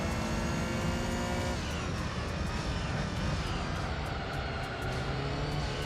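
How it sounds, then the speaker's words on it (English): Race cars sweep past on a track in Gran Turismo 3, with a dense, continuous engine roar from the game, rising and shifting pitch as vehicles go by, with no voices. "you can kind of hear the cars going by there as well"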